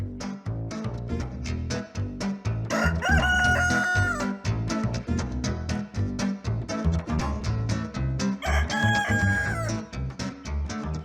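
A cartoon rooster crows twice over loud, rhythmic music with a steady beat.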